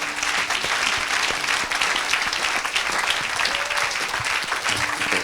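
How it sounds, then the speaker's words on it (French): A church congregation applauds and cheers for Jesus Christ, with steady, dense clapping from a large crowd that holds loud and continuous throughout, with no clear voices over it. "Oh, acclame Jésus-Christ."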